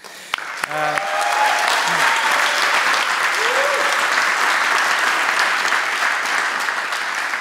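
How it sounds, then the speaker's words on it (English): Audience applause at a hackathon closing and award ceremony in Zurich, starting after a couple of brief knocks and continuing as steady, dense clapping throughout, with faint voices mixed in. "Maybe an applause for the organizers."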